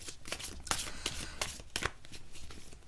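Tarot cards being shuffled by hand, a steady run of soft papery riffles and slaps, close and fairly quiet, with no voices over it.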